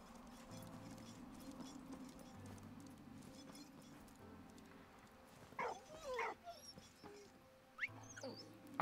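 Short yelping barks from a dog in the World War I game Valiant Hearts: The Great War, two quick bursts mid-clip and another near the end, over a low droning in-game soundscape.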